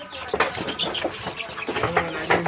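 A chicken clucks several times at close range amid bursts of wing flapping, busy and uneven over a couple of seconds, with no talking.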